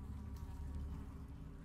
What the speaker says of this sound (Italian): ste mosche che fastidio,